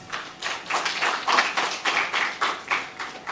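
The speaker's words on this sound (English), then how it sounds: "Please give applause." Audience at a guest lecture on global health clapping in uneven rhythmic pulses, a modest crowd applause rising and falling in bursts, fairly close and without talk.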